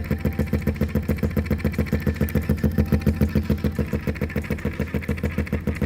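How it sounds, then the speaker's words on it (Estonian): A small homemade electric motor running, a fast, steady pulsing buzz with regular beats, close and continuous with no speech. "Nagu näeme, on mootor nüüd päris elusalt tööle hakanud"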